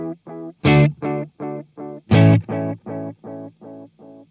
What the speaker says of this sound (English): I'll turn the volume of the echoes up for you a little bit so you can hear them a little bit better.